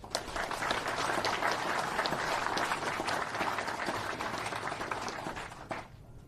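An audience at a Fort Bliss military ceremony honoring a POW gives sustained applause after the national anthems. The clapping stays dense and even, then fades out near the end.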